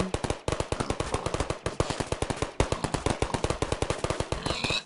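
Turret gunfire in the Portal game with a gun mod: rapid, loud, evenly spaced automatic shots rattle in several long bursts with short breaks between them.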